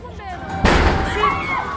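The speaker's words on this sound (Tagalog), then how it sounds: "May biglang sumabog mula sa nasusunog ng mga tindahan." A sudden loud blast booms out partway through from a row of burning shops at a market, followed by a roaring rumble that lingers over steady fire crackle.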